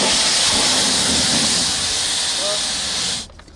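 A pressure washer sprays an abandoned car during an extreme wash, a loud steady hiss that runs unbroken for about three seconds before cutting off abruptly.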